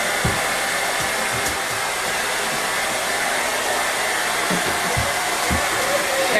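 Hair dryer blowing on a Rottweiler after its bath, a loud, steady close-up whoosh that holds continuously, with faint bumps and knocks underneath.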